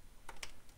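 Two quick, close keystrokes tap on a computer keyboard while a database is set up in pgAdmin for PostgreSQL 16, crisp and isolated over a quiet background.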